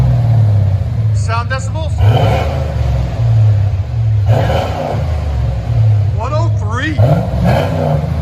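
A Chevy Corvette 5.7L V8 with a Corsa cat-back exhaust idles loud and close with a steady deep burble, swelling in a couple of short revs, while people talk over it.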